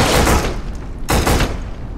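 Explosive booms mixed with rapid gunfire from the first-person shooter Black, two loud broadband bursts separated by a brief dip, with no talking.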